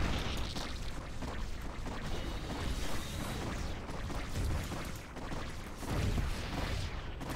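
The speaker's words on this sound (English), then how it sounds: "Spreading out Hydras, trying to dodge these Reaver shots." Reaver shots explode in Starbow, a StarCraft Brood War mod, during a Zerg versus Protoss match: a dense, rumbling wash of booms and crashes that swells and dips but never stops.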